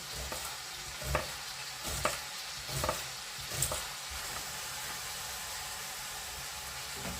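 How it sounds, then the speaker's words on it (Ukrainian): Mushrooms fry in a pan with a steady soft sizzle and hiss, broken by four or five spaced stirring scrapes, close and fairly quiet. "грибочки обсмажуються"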